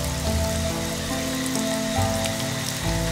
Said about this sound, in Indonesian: hujan mulai turun dengan deras dan dia mencari perlindungan